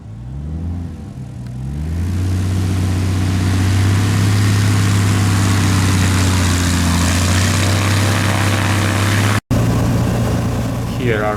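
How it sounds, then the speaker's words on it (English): A small propeller airplane approaches to land uphill on a steep backcountry strip in Idaho. The engine drone grows louder as it nears, holding a steady low hum with a brief cut before it fades again. "Even filming from the outside looks like the airplane is coming too high"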